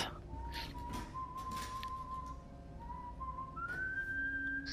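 In the video game Far Cry 5, a character whistles a tune in a thin, clear melodic line, moderately faint and set against quiet game ambience and occasional soft clicks.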